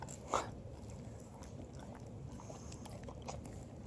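A Labanesse puppy chews food close by, soft irregular crunching and smacking sounds with one brief louder click near the start, quiet overall.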